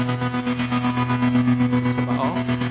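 Electric guitar through a Meris LVX delay pedal with preamp drive in the feedback loop, giving a distorted, chewy tremolo delay; a loud sustained chord pulses in steady rapid tremolo with a few bright picked notes near the end, no talk.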